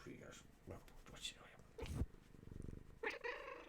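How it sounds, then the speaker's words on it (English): A pet cat purrs in a low, rumbling stretch, close but quiet and partly under a person talking nearby. "There's my cat."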